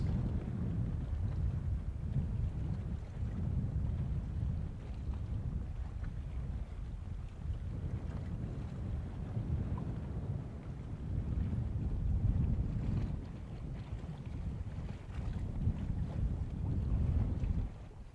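Steady wind buffets the microphone at an outdoor Space Coast, Florida viewing site ahead of a SpaceX Falcon 9 launch, a continuous low rumbling roar that swells and eases in gusts throughout, with no one talking.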